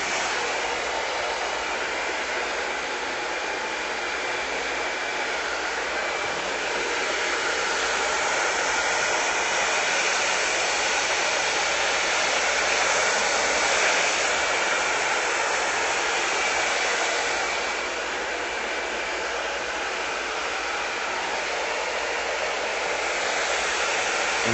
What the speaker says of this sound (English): Now I'm going to take the blow dryer, we're going to put it on cold.